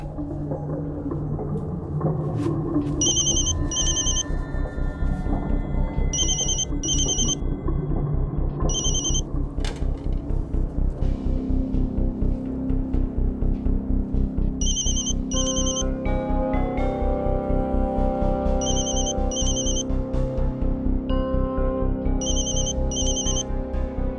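A phone ringtone chirps in short paired bursts, repeating at regular intervals over low background music and rumble.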